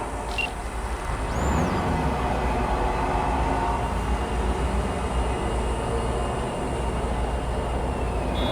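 A train pulls away in the video game Cyberpunk 2077, a continuous heavy rolling rumble with a faint high whine and a brief rising squeal early on, steady and fairly close.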